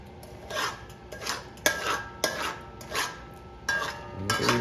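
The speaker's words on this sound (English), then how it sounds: "keep mixing the sugar so it turns black." A spoon scrapes and stirs melting sugar in a pot for Trini-style stew chicken, with repeated rhythmic scraping strokes, close and clear, and no talking.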